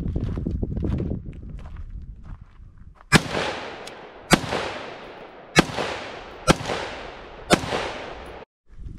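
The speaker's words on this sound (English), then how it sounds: "Next up, we got an AR-15 with a 223." An AR-15 rifle fires .223 rounds in five sharp, loud outdoor shots spaced roughly a second apart, each with a brief echoing tail, after some rustling handling noise.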